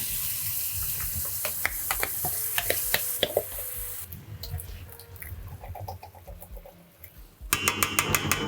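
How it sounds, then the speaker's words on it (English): Canned black beans and their liquid pour into a hot pot with a wet sizzle, a few clinks and sloshes, then a fresh burst of frying near the end. "We're gonna dump the beans, the liquid, and everything in there right inside the pot."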